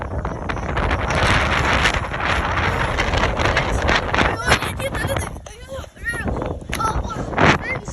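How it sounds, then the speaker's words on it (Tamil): Strong wind gusts roar steadily outdoors under dark clouds near hills, with broadband rushing and buffeting against the microphone and a few brief squeaky sounds late on. "செம்ம காத்து ஃப்ரெண்ட்ஸ்."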